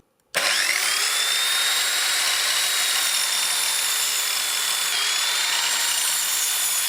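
A Parkside PKS 1500 B3 mitre saw starts abruptly and runs at a loud, steady high whine while cutting wood, close up, with a slight pitch dip near the end and no talking.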